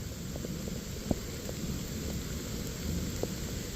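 Steady rain falling outdoors on a disc golf course, a constant hissing wash with a few sharp droplet taps scattered across it, fairly loud and close, with no voices.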